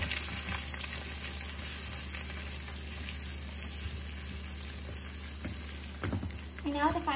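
Noodles with egg stir-frying in a pot over a flame give off a steady, moderate sizzle, with occasional stirring scrapes and a brief clatter near the end.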